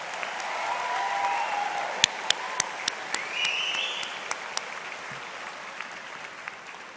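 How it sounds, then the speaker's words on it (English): An audience applauds performers at a 2022 high school graduation ceremony, a sustained wash of clapping with a few louder individual claps and faint whoops standing out. "Can we just get another round of applause for all of our performers today?"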